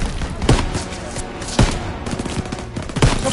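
Bursts of WWII-era gunfire in Call of Duty WWII crack out loud and close, three sharp volleys roughly a second apart over a continuous rattle of background shooting.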